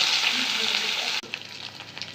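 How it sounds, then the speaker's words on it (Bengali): Boiled, ground dried fish paste hits hot oil in a wok with a loud, dense sizzle that cuts off abruptly, then settles into a lighter crackling fry. "কড়াইয়ে তেল গরম হয়ে গেল, আর এদিকে আমি সেদ্ধ করে রাখা শুটকি মাছটা বেটে কড়াইয়ে দিয়ে দিলাম"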